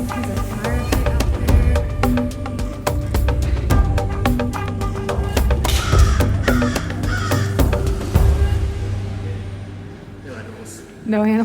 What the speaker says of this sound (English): There's just birds.